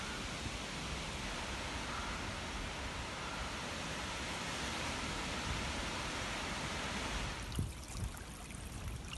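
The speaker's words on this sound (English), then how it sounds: "can you hear the sound of the wind rustling in the trees?" Wind rustling through the leaves of trees on a breezy countryside walk, a steady broadband hiss that holds for several seconds before briefly thinning and breaking into softer gusts near the end; no voices.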